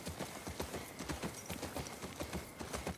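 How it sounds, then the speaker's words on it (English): A horse moves through water in The Last of Us Part II, with steady, rhythmic clopping steps and splashing close by, continuous for the whole stretch. "How good did that water sound with the horse going through it, honestly?"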